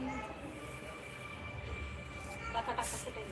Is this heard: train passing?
yes